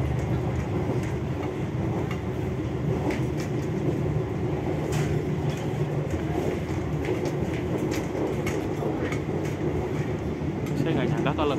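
KA Papandayan panoramic-class train runs toward the Sasaksaan tunnel on the Garut–Jakarta line, a steady loud interior rumble with faint wheel clatter throughout and quiet talk mixed in.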